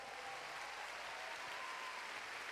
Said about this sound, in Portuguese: Dê um aplauso pelas mulheres.